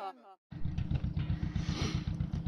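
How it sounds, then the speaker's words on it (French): A motorcycle engine idles and putters close by, its steady rapid thumping running throughout; a brief voice is heard just before it starts. "Abdella et Bertrand se préparent à partir au village en moto."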